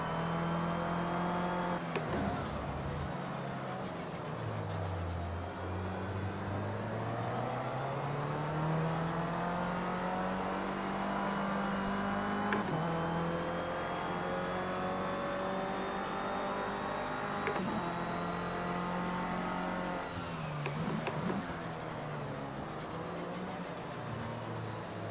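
A race car in the video game Project CARS 2, its engine droning steadily and loudly throughout with pitch rising and falling as it revs and shifts through gears.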